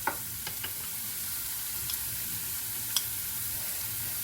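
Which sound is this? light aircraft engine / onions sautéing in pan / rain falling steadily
onions sautéing in pan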